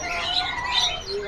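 Many parakeets, local and colour-bred budgies, chirp and twitter continuously together at a bird market, a dense close chorus of overlapping calls with no talk.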